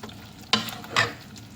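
A spatula turns liver pepper fry with turmeric in a pan, two distinct scraping stirs over a soft background sizzle, close and alone.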